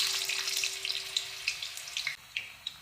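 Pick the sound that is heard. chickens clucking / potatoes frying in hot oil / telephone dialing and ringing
potatoes frying in hot oil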